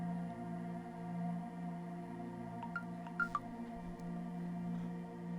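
A few short telephone keypad tones, a brief cluster of beeps over a steady humming background with no talking.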